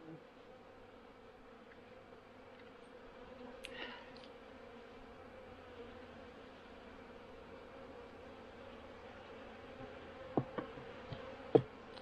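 Honey bees in a hive box treated with Formic Pro, a soft steady buzzing drone close by, faint throughout with a few brief knocks and clicks near the end.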